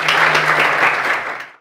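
Children in an Odia-language classroom session about mammals burst into applause together, a dense, close round of clapping that holds steady and then tapers off quickly to silence.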